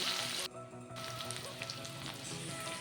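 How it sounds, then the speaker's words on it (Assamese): Onion paste hits hot oil for an Assamese fish dish, setting off a bright hiss that drops away briefly, then returns as a steady close sizzle with scattered pops and no speech. "তেলটো গৰম হোৱাত মই পিঁয়াজৰ পেষ্টটোৰ ওপৰত দি দিছোঁ ধুনীয়াকৈ।"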